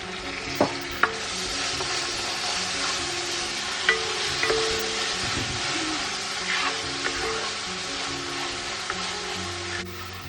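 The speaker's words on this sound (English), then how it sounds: "aroma వచ్చే వరకు మనం స్టిర్ చేసుకోవాలి" Ginger and garlic fry in hot oil for homemade chicken mandi while being stirred, a dense steady sizzle with a few sharp clicks of a utensil against the pan, close and continuous.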